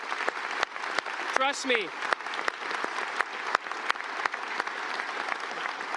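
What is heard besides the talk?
audience applause for plant workers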